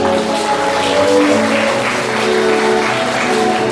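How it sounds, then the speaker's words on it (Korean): Wedding guests applaud in a hall at a Chungju wedding convention, continuous steady clapping at close range with faint music tones running underneath. "네, 다시 한번 박수 부탁드립니다."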